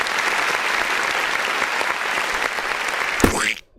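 Dense, steady crowd applause in a music track, a continuous loud wash of many hands that stops abruptly just before the end.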